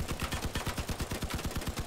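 Rapid automatic gunfire from the vehicle combat video game Crossout rattles in a fast, steady burst of evenly spaced shots, loud and dense for the whole stretch.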